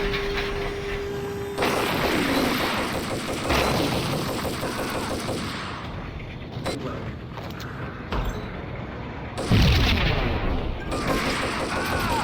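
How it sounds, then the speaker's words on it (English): Gunfire from the shooter video game Max Payne: bursts of punchy, rapid automatic shots and heavier booms follow one another over several seconds, loud and dense, mixed with game ambience and background effects. "The gunfire is chunky and satisfying."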